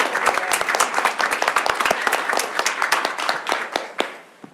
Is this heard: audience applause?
yes